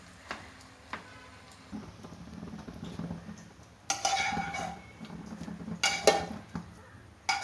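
Chicken fried rice is stirred in a pan with a metal utensil, giving irregular scraping clinks and knocks against the metal with a soft sizzle underneath, growing busier and louder in the second half.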